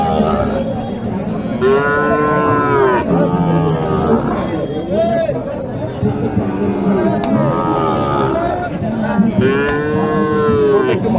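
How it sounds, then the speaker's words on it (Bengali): A Sahiwal cow at the Mataji cattle market in Naogaon moos loudly and near, several drawn-out calls over a busy crowd of people talking. "এখানে একটি শাহিওয়াল গরু দিচ্ছে"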